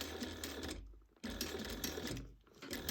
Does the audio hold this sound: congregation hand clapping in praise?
no